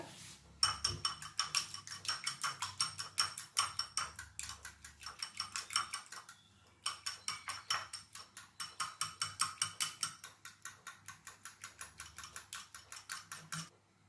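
Eggs with a pinch of turmeric powder are beaten briskly in a bowl, a fast steady run of close clinking whisk strokes that pauses briefly midway before resuming, with no speech.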